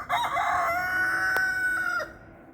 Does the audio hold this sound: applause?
no